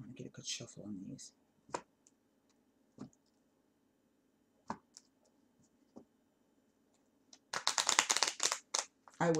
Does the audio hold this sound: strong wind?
no